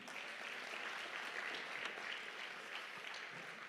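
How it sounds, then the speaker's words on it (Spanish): A church congregation at a Bible conference applauds for the Lord, a steady patter of many hands clapping together for a few seconds, heard from some distance and fairly faint. "Un aplauso más para el Señor."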